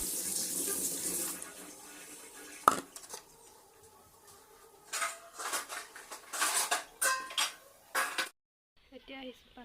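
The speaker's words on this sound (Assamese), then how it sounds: "আৰু এইফালে বাচন আছে কেইটামান, বাচনখিনি ধুই লওঁ" Dishes and cutlery being washed under a running tap at a home sink, with steady water flow and clinking of pots and plates that comes in bursts of close clattering.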